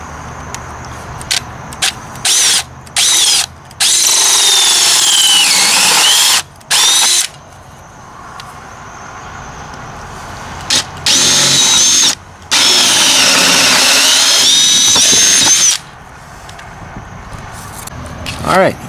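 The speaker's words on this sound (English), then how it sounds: "Now we'll go on the outside and come all the way through." A power drill bores holes through the wall of a DIY travel trailer from the outside, in several loud sustained whining bursts with short pauses between them, and a voice speaking at times.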